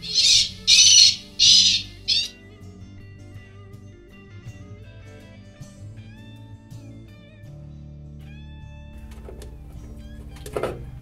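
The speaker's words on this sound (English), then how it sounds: "The sound card contains all the bird sounds." Loud harsh bird squawks repeat four times, then softer electronic bird and raptor calls and chirps play from a Bird Gard Super Pro AMP deterrent speaker over a low steady hum, with one more sharp call near the end.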